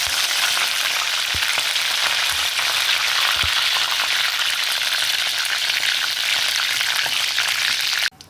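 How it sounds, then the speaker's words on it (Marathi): Curry leaves and two or three cloves of crushed garlic fry in oil in a kadai, a loud, continuous close-up sizzle with a couple of soft knocks, stopping abruptly at the end. "यामध्ये कढीपत्ता टाकलेला आहे हा लसूण टेचलेला आहे दोन तीन पाकळ्या"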